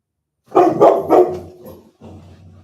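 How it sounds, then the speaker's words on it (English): A female dog indoors, in a home exercise space, gives a quick burst of three loud, close barks, then trails off into softer low grumbles. "Let me sort the dog out."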